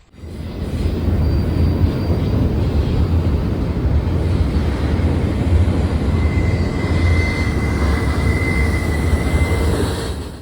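A steady, heavy low rumble of a train passing nearby, heard from about 100 feet up, constant and loud throughout, with a faint whine high above and no voices.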